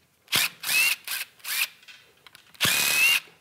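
An electric power tool runs in short bursts, loosening the valve body bolts on a 4L60e automatic transmission during teardown; four whirring spurts are followed by a pause, then one longer burst, loud and close with no talk.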